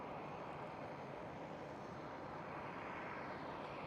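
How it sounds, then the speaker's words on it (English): A KLM Boeing 787 airliner taking off at Schiphol, a faint, distant broadband roar of jet engines that stays steady throughout with no voices. "And the KLM 787 goes."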